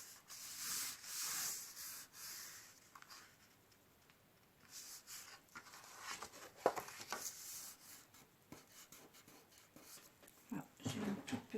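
Paper for an accordion-fold album is creased and folded by hand, giving soft, intermittent rubbing and sliding strokes at close range, quiet overall, with a few sharper scrapes near the end.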